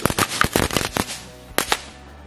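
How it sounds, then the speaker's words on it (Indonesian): Crackling firecrackers set off inside an aquarium, a rapid string of sharp pops and bursts, loud and close, with a short pause before a final couple of cracks, no talk. "Selanjutnya kita nyalain mercon peretekan. Kita lihat apakah bisa masuk ke dalam akuarium."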